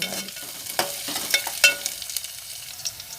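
Onions and curry leaves fry in hot tempering oil with a soft steady sizzle, broken by a few light stirring scrapes and clinks close by.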